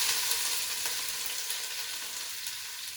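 Chopped onions sizzle and fry in warm olive oil in a pre-heated pot, a dense, steady hiss close by with no talk over it.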